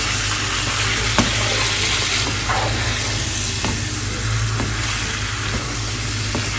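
Masala and chicken sizzle steadily in a hot pan for biryani, a dense continuous frying hiss with occasional soft stirring clicks, close and fairly loud, no voices.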